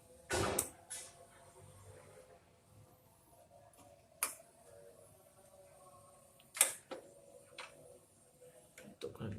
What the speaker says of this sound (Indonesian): Jangan lupa kita akan memasangkan baut pada hard disknya.